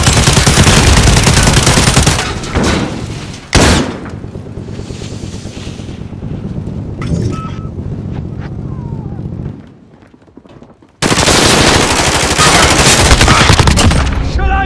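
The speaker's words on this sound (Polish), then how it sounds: "Strzelają do mnie!" Sustained automatic gunfire and explosive bursts from a Call of Duty: Modern Warfare multiplayer match, loud and dense at the start and end with a quieter stretch of distant shots and ambient noise in between.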